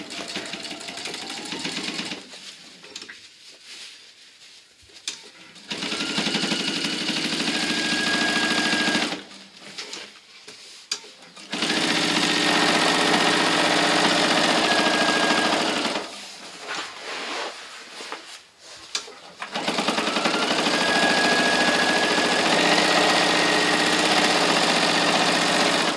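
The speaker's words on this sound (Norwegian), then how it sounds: "Nå syr du den ene sidesømmen." A sewing machine stitches the side seam of an anorak in three long, steady runs with brief quiet pauses between them, its motor whirring close and loud with no talking.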